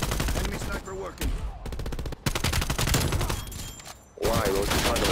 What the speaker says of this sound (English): Enemy sniper working